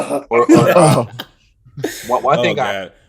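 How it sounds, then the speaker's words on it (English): A person clears their throat with rough, gravelly bursts, then a short pause and more throaty clearing, close and loud. "Let me clear my throat."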